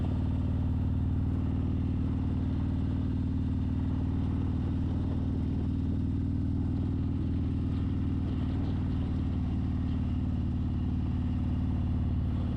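Motorcycle engine warming up at idle, a steady, loud, low rumble that holds evenly throughout and sounds close by, with no voices over it.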